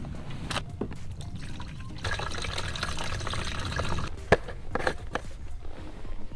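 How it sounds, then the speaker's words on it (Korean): Liquid poured into the tank of an agricultural spraying drone, a steady close splashing fill with gurgling and trickling, broken by a few sharp plastic knocks near the end. "액체 탱크의 뚜껑을 열고 거름망에 아무것도 없는지 확인해 주신 다음에 이제 액체를 투입하겠습니다"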